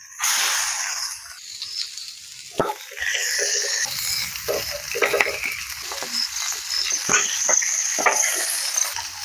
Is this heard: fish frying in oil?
yes